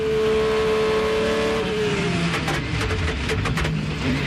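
A race car's engine is heard from onboard during the Rolex 24 at Daytona endurance race, a loud sustained high engine note that drops in pitch as the car lifts and shifts down, with no talk.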